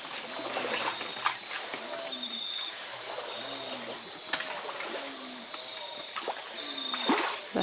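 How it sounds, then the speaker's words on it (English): A frog calls from bamboo at night in the Ecuadorian Amazon, with short repeated low croaks at a steady pace over a constant high insect chorus. "That's a frog we can hear in the bamboo."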